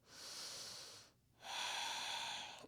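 Two long, airy breaths during a standing hip-mobility exercise flow, each a steady broadband rush lasting about a second, separated by a short quiet gap; close and fairly soft, with no talking.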